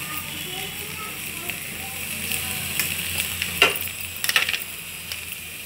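Okra pieces frying in a pan after salting, giving a steady close sizzle with occasional stirring scrapes and clicks near the end.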